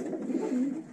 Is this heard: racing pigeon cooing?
yes